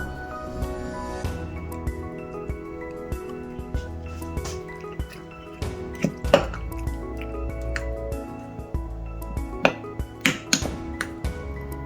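Metal spoon clinking against a pot while healing tea with sliced lemon is stirred, giving a run of sharp irregular taps and clinks over a steady background, with no voices.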